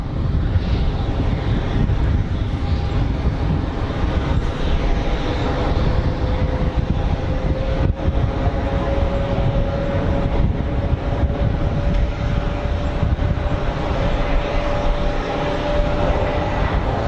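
An easyJet jet comes in to land at Geneva Airport in a gusty crosswind, a steady broadband engine roar with a slowly rising whine, loud and continuous with wind buffeting the microphone throughout.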